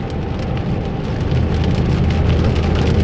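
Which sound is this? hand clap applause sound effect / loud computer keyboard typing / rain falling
rain falling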